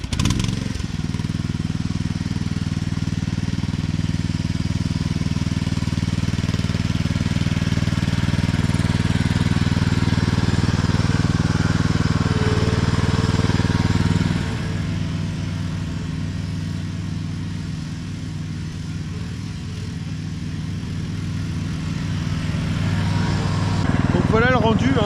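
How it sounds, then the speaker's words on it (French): A steady, low tractor engine drone runs throughout, dipping briefly midway before building again, with a faint voice in the background. "Je vais passer un coup de tracteur"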